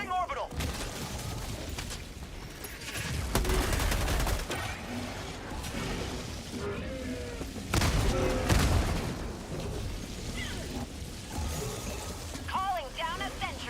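An orbital strike and automatic gunfire in the Helldivers 2 video game at the hardest difficulty: heavy booms and rolling bursts of fire come in loud waves, with rumbling blasts layered over constant battle noise and voices talking over the action.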